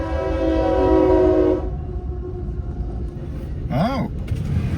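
A CSX freight train approaches along the tracks with a loud, steady rumble, joined by a brief blast of the train horn near the end.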